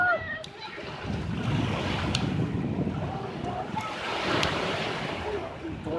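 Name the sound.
ocean waves at the beach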